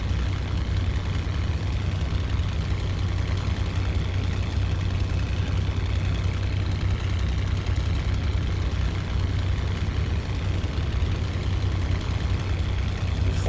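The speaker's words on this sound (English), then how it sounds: "overheat the shit out of the engine, because the Merlin does not like being run on the ground." A Spitfire's Merlin piston engine runs on the ground while taxiing in a flight simulation game, a steady low rumbling drone with no change in pace.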